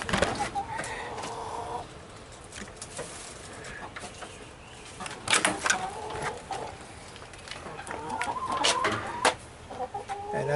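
Chickens clucking nearby in scattered, irregular bursts, with occasional louder squawks over a soft background.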